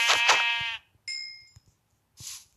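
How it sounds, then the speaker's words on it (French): Sheep in the Minecraft video game bleat in three short separate calls, the first loud and wavering with two pulses, followed by a thinner tonal bleat and a brief, quieter final call, with silence between them. "J'ai entendu le mouton."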